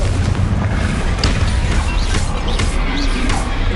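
The Incendio fire spell in Hogwarts Legacy is cast as a loud, dense whooshing roar of flame, a continuous close burst lasting a few seconds.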